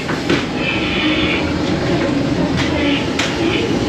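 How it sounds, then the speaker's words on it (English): Ghost train ride cars rattling along the track at an Easter funfair, a steady loud rumble and clatter with a few sharp clanks, heard up close from on board. "Ghost train is so good."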